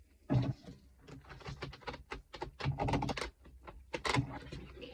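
Cards are shuffled in quick, crisp flurries of riffling and tapping, with a steady rustling patter close to the listener.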